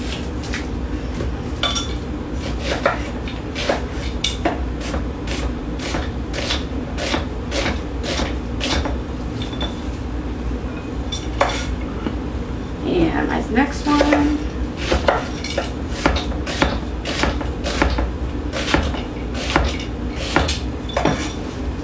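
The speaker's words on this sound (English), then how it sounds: "And now I'm just going to peel these onions and get these chopped up." A knife chops onions on a cutting board in a steady rhythm of sharp, close taps, with a brief pause partway through before the chopping resumes.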